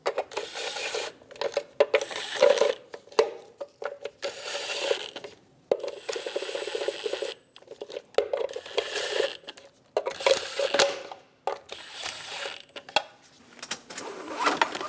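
A ratchet snugs the front wheel lug nuts on a Chevrolet Express 2500 van in quick bursts of crisp metallic clicking, with short pauses between each nut.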